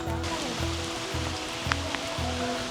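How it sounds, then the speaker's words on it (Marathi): Heavy downpour on the way from a checkpoint near the Yana caves, a steady dense hiss of rain filling the scene with a few louder drips and splashes close by, no talk over it. "चेक पॉईंटवरून निघालो आणि पाऊस मुसळधार सुरू झालाय"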